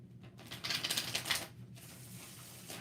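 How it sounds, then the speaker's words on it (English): Tarot cards are shuffled by hand in a quick riffling burst of papery flicks lasting about a second, close up and quiet, followed by faint rustling. "One more shuffle."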